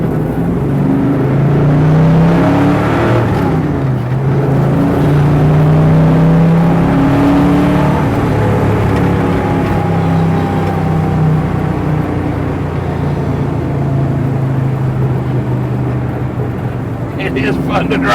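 A 1957 Chevy gasser two-door wagon cruises down the road with a steady low engine rumble and gentle rises in revs, while someone talks over the drone throughout.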